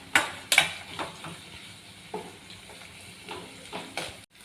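Ingredients sizzle and fry in a pan for a bottle gourd curry, with soft crackling and a few louder stirring bursts close by, and no one talking.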